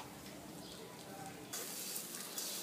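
Vegetables and semolina sizzle and crackle as they roast in a pan for bhajyancha sanja, a soft steady hiss that turns louder and brighter partway through, heard close with no talking.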